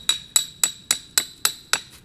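A stick pounded into frozen ground to make a hole for a coyote trap: eight sharp, ringing knocks at a steady pace, close and loud, each dying away quickly, with no voices.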